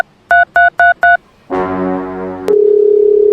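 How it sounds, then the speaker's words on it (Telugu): Four short, evenly spaced telephone keypad tones, followed by a sustained dial tone that changes to a steady ringback-like tone; loud and clear with no speech. "ఫోన్ చేసి వెళ్ళిపోదాం."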